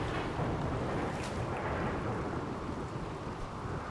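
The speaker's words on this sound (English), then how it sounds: "rainy thunderstorm, that's okay." A rainy thunderstorm in the video game RimWorld: a dense, steady wash of rain with a low rumbling undertone, constant and moderately loud for the whole stretch with no voices.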